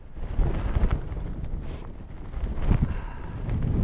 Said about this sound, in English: it is so windy here that I can't set up a tripod